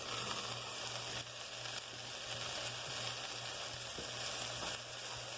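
Red and green peppers sizzle steadily in a hot pan, a constant frying hiss throughout with a low hum beneath and a few faint stirring clicks.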